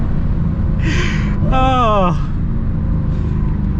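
A 2022 Dodge Challenger SRT Super Stock engine drives through a tunnel, heard as a heavy, steady low rumble throughout, while a person gasps and exclaims over it.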